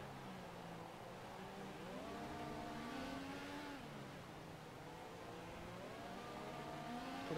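Toro Rosso Formula 1 car from F1 2014 passing at the Malaysian circuit in Kuala Lumpur, its engine whine rising and falling in pitch over steady background engine drone.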